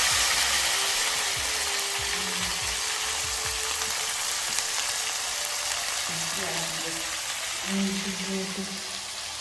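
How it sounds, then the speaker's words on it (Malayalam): Ginger and garlic fry in a pan with a continuous soft sizzle and hiss, while voices chat intermittently nearby. "ഇഞ്ചിയും വെളുത്തുള്ളിയൊക്കെ ഇട്ടു തീ കുറച്ച് വെച്ചേക്കോ"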